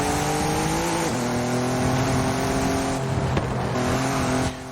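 An Audi race car screams through its gears in a racing video game, the engine note climbing, dropping at each shift and climbing again, loud and continuous with no speech.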